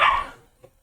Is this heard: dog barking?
yes